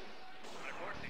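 Tank blowing up in the real-time strategy game Command and Conquer: Red Alert, a dense, noisy burst of battle explosions and gunfire filling the second, with overlapping crashes and a steady loud roar throughout.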